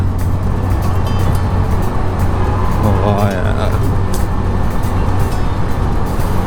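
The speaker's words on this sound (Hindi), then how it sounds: "ओह आवाज़ कैसी आती है यहाँ पे बाइक की, मज़ेदार।" Loud, steady motorcycle engine rumble reverberating inside Atal Tunnel in Uttarakhand, with a brief rising whine in the middle and someone speaking briefly over it in Hindi.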